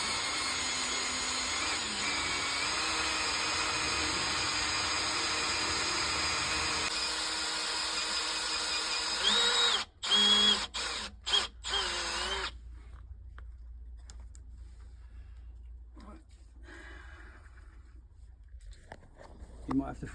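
A variable speed drill bores into a stubborn, broken wheel nut on a Jaguar XF with a steady, close, high whine. A few abrupt stops and restarts follow, then the drill falls quiet.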